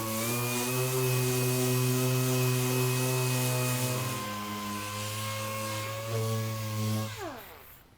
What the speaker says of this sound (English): I'm going to come over and sand the crease that we worked out with 80 as well